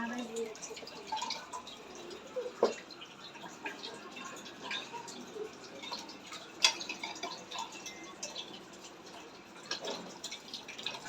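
Tap water runs while dishes are washed at a home sink, a steady faint stream broken by scattered drips and light clinks of utensils, with occasional voices in the background.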